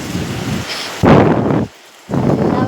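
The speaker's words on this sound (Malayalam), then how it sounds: "നേരെ നല്ല കാറ്റാണിപ്പോൾ" Strong wind gusting in the open during rain, loud buffeting rumbles against the microphone in bursts, with a brief lull between gusts.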